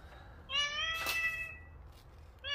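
A house cat meows indoors at close range, one drawn-out meow followed by the start of another, over a low background hum.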